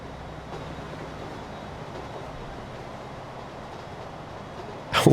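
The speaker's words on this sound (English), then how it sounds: "Holy crap, that is one long train." A long train rolls along in the Transport Fever video game, a steady, even low rumble and rail noise that holds throughout and ends in a sudden louder burst.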